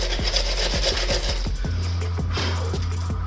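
Coarse 40 grit sandpaper scraping over cured body filler, a steady harsh rasp with rhythmic back-and-forth strokes repeating close to the listener, loud and without any talk.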